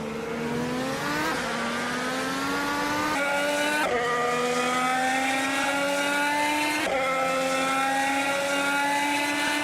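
A Honda IndyCar engine howls at high revs, its pitch climbing steadily through upshifts with brief dips at each gear change, loud and continuous throughout, mixed with other racing cars.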